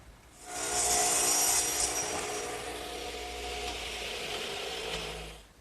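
A saw cuts an angled piece of wood for a garden swing, a loud, continuous rasping grind close up that holds steady for several seconds before tapering off, with no talking.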